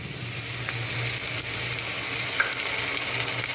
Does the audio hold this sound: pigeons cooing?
no